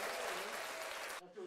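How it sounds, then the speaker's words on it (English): Crowd applause at a football game, a broad wash of clapping that lasts about a second before cutting off abruptly, with faint murmur after it. "4th down, got a little applause there."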